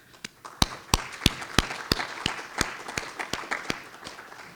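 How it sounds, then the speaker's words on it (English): An audience at a college symposium on the war in Ukraine claps. A small group gives crisp, distinct hand claps in a loose, fairly regular rhythm that fades slightly over a few seconds. "Please give them a round of applause"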